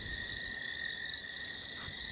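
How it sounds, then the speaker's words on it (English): Frogs croak in a steady, high-pitched chorus around a home's grill deck in a natural setting at The Royal Club, a continuous layered trill at moderate distance with no talking. "The frogs speak for themselves."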